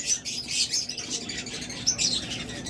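Lutino Fischer's lovebirds, a pair, chattering with bright, overlapping chirps and squawks that rise and fall throughout, close and fairly busy, with no talking.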